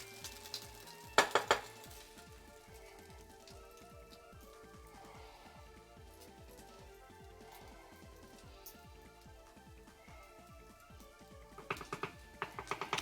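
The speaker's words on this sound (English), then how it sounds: "Little sizzling going on." Shallots and baby onions sizzle and brown in a pan, a steady soft crackling frying sound throughout, with a few louder clinks or stirring bursts near the start and end, no talk.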